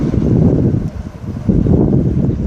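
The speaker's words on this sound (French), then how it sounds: "Il y a du vent" Strong wind buffets the microphone at a harbour quay in steady low rumbling gusts, loud and continuous with a brief dip midway.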